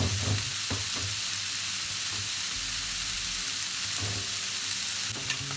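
Chicken for Nigerian shawarma cooking on a hot pan, giving a steady close sizzle with a few soft clicks and scrapes throughout, with no voices.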